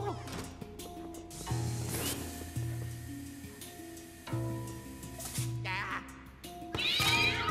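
A ghost cat in Luigi's Mansion 3 lets out drawn-out meows and yowls over bouncy game music and effects, moderately loud and repeated across the stretch.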